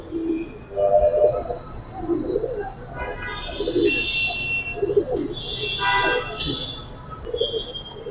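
Pigeons, including Giribaz tumblers, coo in repeated low bursts at a market while someone talks close by and other voices chatter in the background.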